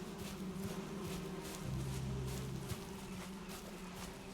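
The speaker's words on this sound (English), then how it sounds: "I can hear bees." Bees in the Valheim video game give off a faint, steady low buzz that drones on and off under the game's ambient sound, with soft footsteps ticking in the background.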